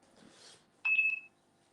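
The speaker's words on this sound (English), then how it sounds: "I'm not sure what the beeping noise is." A phone gives a single short, bright electronic beep over quiet room tone. A fainter hiss comes just before it.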